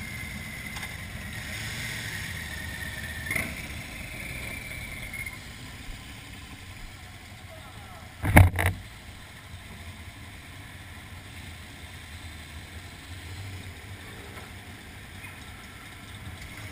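A boat engine idles out of gear with a low, steady rumble. One brief knock or thump breaks in about halfway through.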